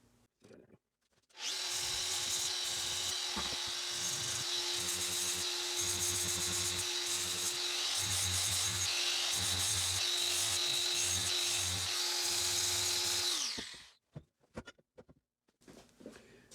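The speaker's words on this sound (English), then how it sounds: "use that flap disc to get down through the glue that was on it" A flap disc on a power grinder strips old glue from a wooden pool table cushion rail, whining steadily and loudly for about twelve seconds before spinning down, with faint handling noises on either side.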